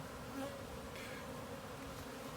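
Honey bees buzzing softly during a live top-bar hive inspection, a faint, steady, close drone with no talk.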